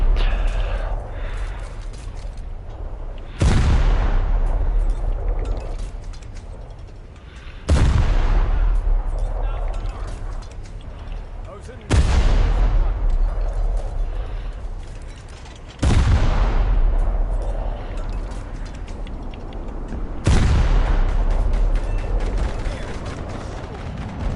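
Repeated heavy explosions from bombs and gunfire in the video game War Thunder, six loud booming blasts spaced roughly four seconds apart, each with a sharp attack and a long rumbling decay, with no voices.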